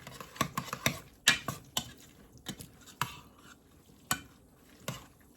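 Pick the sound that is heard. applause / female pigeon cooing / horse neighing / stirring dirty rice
stirring dirty rice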